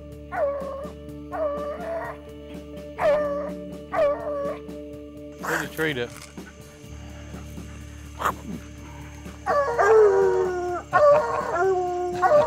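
Three coon hunting dogs bay and howl at a treed raccoon in the woods, giving repeated drawn-out howls at moderate distance, with a person speaking briefly in between.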